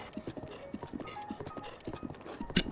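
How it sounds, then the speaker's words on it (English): Horse hooves clop along a road in the video game Zelda: Breath of the Wild, Champions' Ballad, a quick steady galloping rhythm of soft thuds mixed with faint game sounds and music, moderately loud. "in situations like this where the horse just follows the road and I don't really have to do much"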